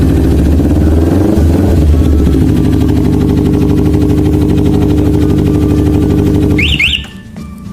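A Kawasaki Ninja 250 motorcycle engine idles loud and close with a steady throbbing rumble, then cuts off near the end, leaving a short chirp and near quiet.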